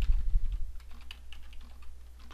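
Typing on a computer keyboard, a quick burst of close, soft key clicks followed by lighter scattered taps over a low steady hum.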